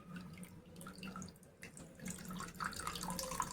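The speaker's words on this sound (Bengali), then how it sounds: "এটা ঠান্ডা জল দিয়ে ভালো করে একটু ধুয়ে নেব" Fresh chhena is rinsed under cold running tap water in a kitchen sink, a soft steady splashing stream with small spatters, quiet and close, with no talking.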